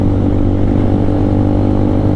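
A Lifan KPR200 motorcycle rides through neighborhood streets, its mid-pitched engine holding a steady, close, continuous drone with no talking.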